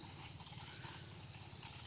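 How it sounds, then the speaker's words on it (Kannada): Frogs croak at night in a forest, a dense and steady pulsing chorus mixed with insect-like chirring that fills the whole stretch at an even level. "ಆ ಕಪ್ಪೆಗಳು ಸೌಂಡ್ ಕೇಳಿಸ್ತಾ ಇದೆಯಾ"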